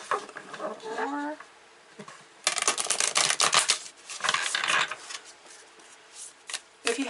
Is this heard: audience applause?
no